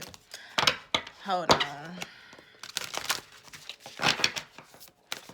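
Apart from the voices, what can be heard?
shuffling tarot cards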